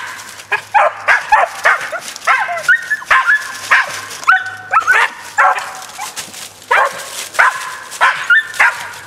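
Two tree dogs bark and yip repeatedly at a cat up a tree outdoors, a steady run of close, loud, rapid barks with whiny yelps mixed in.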